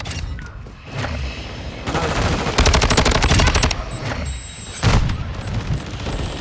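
Rapid bursts of gunfire from a video game shooter, sniper and automatic weapons firing in dense volleys that swell and fade, with a few louder booms, loud and close with no talk over them.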